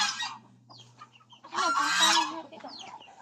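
A chicken clucks and squawks in loud, agitated bursts close by in a rural yard, its cries separated by brief pauses.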